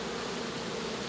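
Many honeybees hum in a dense, continuous buzz close by at a hive entrance, faint overall and with no voices.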